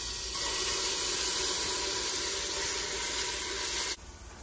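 Cardamom, cloves and ginger-garlic sizzle in hot oil for a dhaba-style mutton curry, a loud steady hiss that holds for about four seconds and then drops away abruptly.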